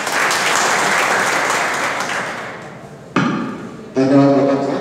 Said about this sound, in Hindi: दिव्यांगा सर के लिए तालियां बजाइएगा।